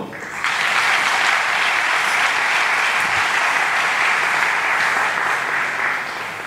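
Sustained applause from an audience welcoming provincial delegates arriving at a governors' conference in Kalemie, a dense, steady wash of clapping that rises quickly, holds evenly and tapers slightly at the end.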